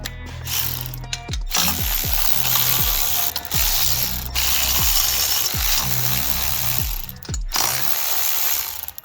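Ratchet wrench loosening bolts on the manifold in the engine bay of a Mk4 Supra: repeated close ratcheting clicks in short bursts over a steady background hiss, with no talking.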